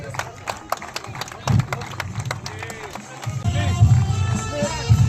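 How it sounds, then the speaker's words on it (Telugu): A crowd at the opening of a police sports meet claps in a burst of scattered then denser applause, mixed with voices and crowd babble close by. "అందరూ కూడా గట్టిగా చప్పట్లు కొట్టారు సార్"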